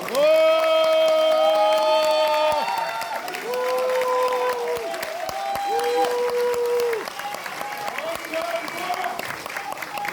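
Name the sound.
applause welcoming guests at party launch ceremony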